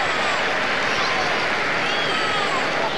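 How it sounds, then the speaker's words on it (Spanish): A huge football stadium crowd roars in ovation for Maradona, dense continuous cheering and clapping filling the space. "Escuchamos la ovación."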